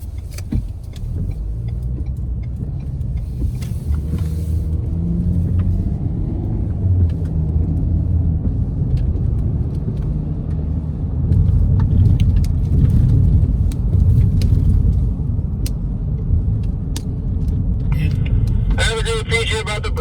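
A 2021 Ford Bronco Sport Badlands driving on a back road and turning sharply uphill from a stop sign gives a steady low engine and road rumble inside the cabin, continuous throughout at moderate loudness.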